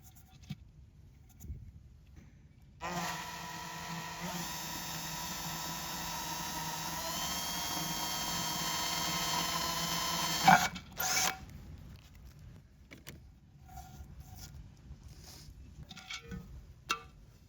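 A ceramic pot is drilled with DeWalt bits, giving a steady high whining grind that runs for about eight seconds at moderate level, then stops with a brief clatter and quiet handling noises.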